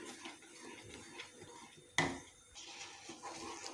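A utensil stirs milk curdled with lemon juice in a pan for kalakand, giving soft scraping and a sharp metallic clink midway, over low kitchen background noise.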